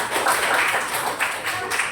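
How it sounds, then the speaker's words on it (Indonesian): A classroom of students gives a short round of applause, a dense, steady patter of many hands clapping for about two seconds. "Beri tepuk tangan untuk Kakak"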